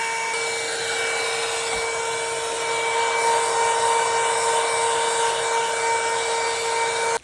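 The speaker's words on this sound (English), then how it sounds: "And you can use a blow dryer as well." A steady, loud motorized whir with a constant high whine runs throughout, then cuts off abruptly at the end, like a blow dryer blowing.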